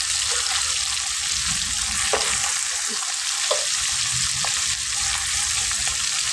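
Taro leaves sizzle and crackle steadily in a hot pan after fish has been fried in it, with occasional stirring clinks, close and continuous.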